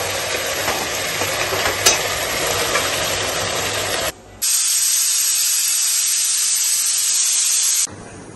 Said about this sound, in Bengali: মাংসটা খুব ভালো মতন কষিয়ে গেছে।